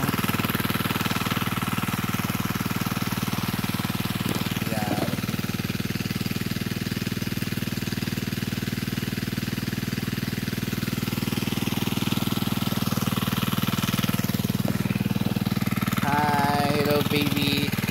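A motor-driven water pump on a farm drones steadily and loudly for the whole stretch, a continuous mechanical rumble.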